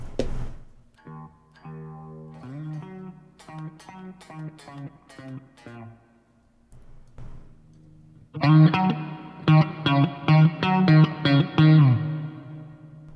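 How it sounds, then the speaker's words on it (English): Electric guitar through a BOSS Katana MK2 amp with subtle slapback delay and reverb: phrases with a short, tight echo trailing each note, a brief pause, then louder strummed chords repeating rhythmically. "I have this delay as like a little bit of a slapback delay kind of, to make it more of a room sound."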